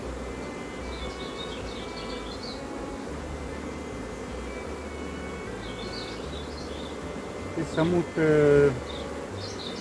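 Honeybees from a natural swarm without a queen hum steadily around a hive while frames are handled, a soft continuous buzz with a few brief louder clunks and a voice speaking Romanian over it.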